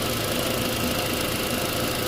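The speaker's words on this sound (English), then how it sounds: "Okay, guys, so I got the car running. It seems to be running really nice right now. I just started it up." A 2003 Volkswagen Passat with the 1.8T turbo engine idles steadily and close by, its broadband running hum unbroken and even throughout, with no talk over it.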